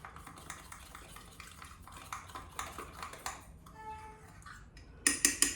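A fork stirring and tapping vanilla mug cake batter in a mug, with soft repeated scrapes and clinks that end in a few sharp, ringing taps against the rim.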